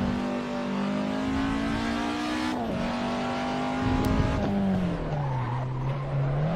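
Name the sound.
race car sliding on slippery track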